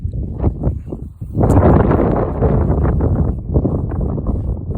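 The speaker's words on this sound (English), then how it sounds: "Still very windy" Strong wind gusts buffet the microphone on Kinder Scout in the Peak District. The roar swells abruptly after a brief lull and then blusters on without letup.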